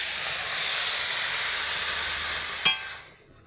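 Water poured into a hot pan of vegetables with turmeric, chilli powder and salt sets off a loud, steady steaming hiss, a sharp splash near the end, then a quieter sizzle as it dies down.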